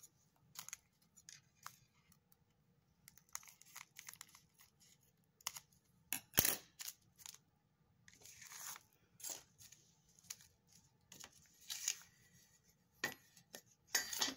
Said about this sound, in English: I'll cut off the excess.